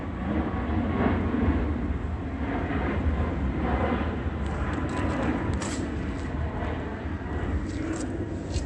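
A Southwest Airlines passenger plane flies overhead at a plaza, a steady low rumbling roar that drones continuously, moderately loud and distant, with faint clicks and background noise.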